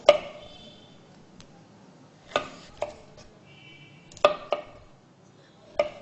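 A knife slices a bell pepper into long strips on a cutting board, a few sharp, separate chops spaced a couple of seconds apart, close and clear against a quiet kitchen.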